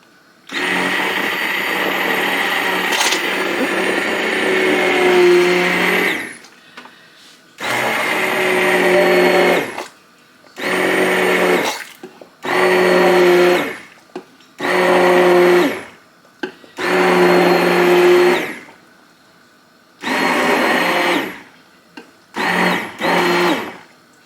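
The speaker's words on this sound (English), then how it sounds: "I'm going to use my immersion blender to break those apples up" An immersion blender purees cooked apples for apple butter, whirring loudly in repeated bursts of a few seconds each, separated by short pauses, up close with no talking.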